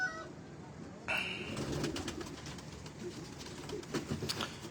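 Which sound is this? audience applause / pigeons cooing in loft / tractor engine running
pigeons cooing in loft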